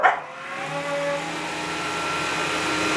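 A Bosch Athlet cordless upright vacuum cleaner switched to its turbo setting: a brief click, then a loud, steady motor whine and airy roar that rises slightly in pitch and holds, close by.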